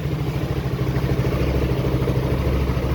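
A Yamaha X-Max scooter, revived after a flat battery, runs steadily at idle with a low, even engine rumble and light clatter, close by and continuous throughout.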